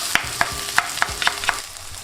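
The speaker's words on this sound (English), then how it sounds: "You want to mix up that cheese and let it melt slightly." Cheese being stirred into a sizzling chicken sub filling in a pan, with six regular scraping strokes of a utensil over a constant frying hiss, close and fairly loud.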